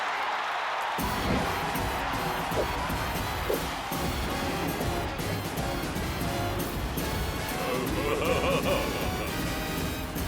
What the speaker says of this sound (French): veuillez réserver un tonnerre d'applaudissements pour les danseurs de Buddy Watkins Buckingham Palace